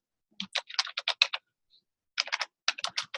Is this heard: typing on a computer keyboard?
yes